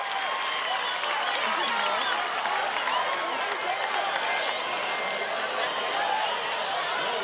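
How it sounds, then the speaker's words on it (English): A stadium crowd cheers steadily throughout a track race finish, a dense, continuous roar of many voices with no single sound standing out. "You can hear the cheers in the stadium diminish once the crowd sees Anderson keep running and realizes the mistake"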